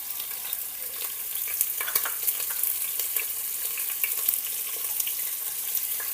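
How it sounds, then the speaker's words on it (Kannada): Green chilies and garlic fry in a pan for methi khichadi with a steady soft sizzle, broken by light scraping and stirring clicks, close and without voices. "ಹಸಿಮೆಣ್ಸಿನ್ಕಾಯಿ ಸೇರಿಸ್ಕೊಳತ್ತೇನೆ"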